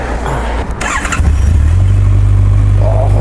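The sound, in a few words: Honda CB1100RS air-cooled four-cylinder motorcycle engine starting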